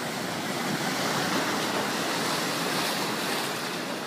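Ocean surf washes steadily against the rock below a Bali sea temple, a broad continuous roar with wind noise and no talking.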